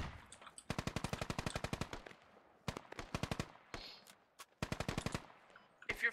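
Automatic gunfire in the video game Squad rattles in long rapid bursts separated by brief gaps and a few single shots, sharp and fairly near, alone with no talking.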